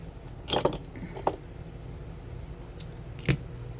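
Scissors snip through cheesecloth in a few brief, quiet cuts, a cluster of clicks early on, another single snip, then one more near the end, heard alone against low room noise.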